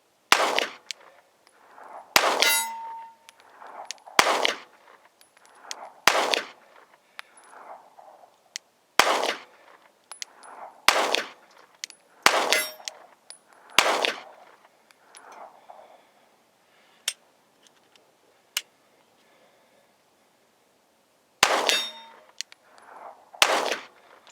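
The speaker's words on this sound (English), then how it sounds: "Glock 43X, 50 yards, steel plate." Glock 43X pistol fire at a steel plate 50 yards away: sharp, loud shots come singly and in quick clusters, many followed by a ringing metallic clang, with short quiet pauses and a longer gap near the end.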